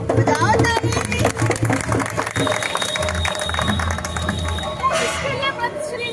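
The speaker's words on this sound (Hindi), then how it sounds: "बजाओ ताली।" An audience at an eye-donation talk bursts into dense clapping that runs for several seconds and then tapers, mixed with crowd murmur and voices.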